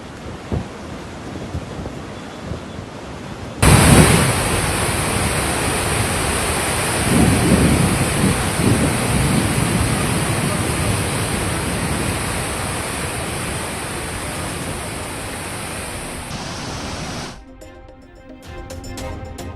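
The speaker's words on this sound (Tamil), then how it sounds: "இமாச்சல பிரதேசத்தின் மணாலியில் கனமழை, வெள்ளப்பெருக்கு." Heavy rain pouring during flooding in Manali, a dense, loud, continuous roar of rushing water that starts abruptly and holds steady for over ten seconds before cutting away.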